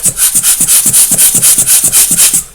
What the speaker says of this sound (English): hit it with the blower